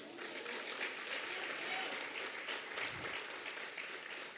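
A church congregation applauds during a sermon, a dense, even wash of clapping from many hands that holds steady throughout, heard at a moderate distance in a reverberant hall.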